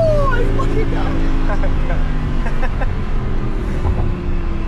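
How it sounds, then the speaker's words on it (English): Lamborghini engine roaring from inside the car while driving, a steady loud low rumble with a rising pitch sweep, people talking over it. "You hear that Lambo roar"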